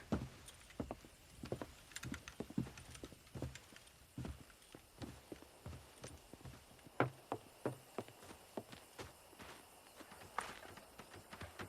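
Horse hooves clip-clop at a walk in Red Dead Redemption, a steady run of soft, uneven thuds at moderate distance, quiet and alone with faint background ambience.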